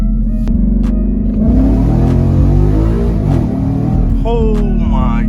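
A Ford Mustang GT fitted with a Roush intake accelerates hard, its V8 note climbing loudly and close, with a voice talking over the engine.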